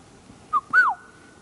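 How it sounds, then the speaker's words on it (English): A single friarbird call: a short whistled note followed by a longer, louder swooping one, clear against a quiet background. "It's probably a fryer bird."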